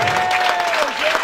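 Church congregation clapping and cheering at a spiritual retreat, a dense continuous wash of applause filling the whole moment with a faint sustained tone riding over it.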